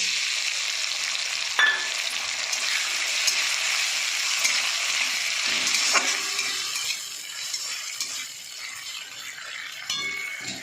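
Ground spice paste of ginger, garlic, green chilli, cumin and pepper hitting hot oil in a frying pan, a steady bright sizzle with occasional utensil clinks and stirring scrapes.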